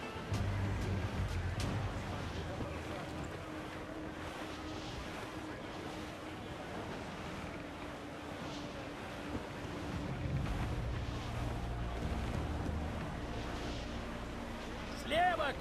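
A sailing ship under full sail in the Assassin's Creed IV: Black Flag game sends out a continuous roar of wind and rushing sea, with creaking and water washing below. Voices call out from time to time over the steady noise.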